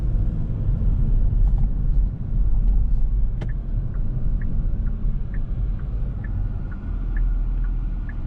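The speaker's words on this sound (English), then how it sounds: "Nice quick shifts coming out of that 8-speed automatic" A 2022 Genesis G70 V6 sports sedan drives under steady engine rumble while its 8-speed automatic shifts, with slight dips in the drone and faint whining tones above the road noise.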